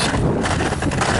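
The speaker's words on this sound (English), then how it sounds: "Windy out here on this bridge." Wind roars across the microphone on a bridge on a sunny winter morning near the Bondcliff trail, a loud steady broadband rush with no voices.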